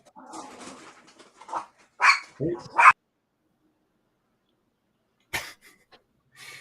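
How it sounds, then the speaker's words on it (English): A real dog barks outdoors beyond the house, several loud sharp barks bunched together between stretches of conversation, then a short burst again after a quiet pause; people talk nearby. "No, that's actually a real dog outside."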